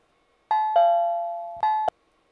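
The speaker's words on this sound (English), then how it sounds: "Sound of bells." Four bell tones ring as the sound stimulus in a reaction-time test, struck as two pairs of clear, sustained ding-dong chimes close up, with silence between and after them.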